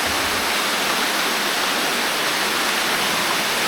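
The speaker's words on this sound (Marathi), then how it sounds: "छान पद्धतीनं पाणी बाहेर पडतंय" Water gushing out through an old stone drain outlet at Sudhagad fort, a steady, loud, broadband rushing roar that holds constant throughout with no voices.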